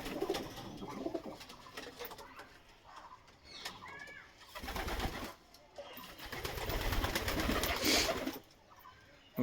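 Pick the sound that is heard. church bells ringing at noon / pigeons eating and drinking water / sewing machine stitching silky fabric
pigeons eating and drinking water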